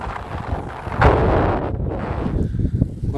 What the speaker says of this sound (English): Still windy, as you can hear.